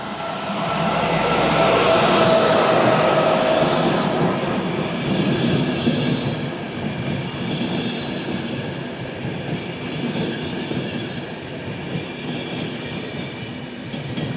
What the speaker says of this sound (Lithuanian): Pravažiuoja traukinys Baltijos ekspresas